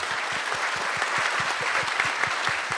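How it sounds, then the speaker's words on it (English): Audience applause at an Indigenous Peoples Day morning session, steady dense clapping from a room of people that holds an even level for the whole stretch without a pause. "If everybody could join me in giving her a round of applause."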